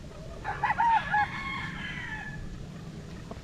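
A young yogurt-gray gamecock stag, bred over a golden boy line, crows once at mid distance, a short rising-and-falling call over steady outdoor background noise.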